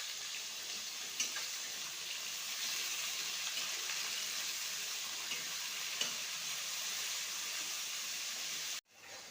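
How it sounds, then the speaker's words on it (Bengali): Onions frying in oil in a kadai for egg biryani, a steady soft sizzle throughout with a few faint stirring clicks, heard alone and cut off abruptly near the end. "দেখো পেঁয়াজ কত সুন্দর করে ভাজছে"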